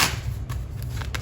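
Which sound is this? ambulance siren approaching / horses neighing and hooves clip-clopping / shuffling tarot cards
shuffling tarot cards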